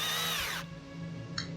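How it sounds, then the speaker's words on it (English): A cordless power drill driving screws into wood for a raised garden bed, a loud whining run that cuts off sharply, then a brief short burst a moment later. "I like to run the drill in reverse first, and then drill it in, and this way it's less likely to crack the wood"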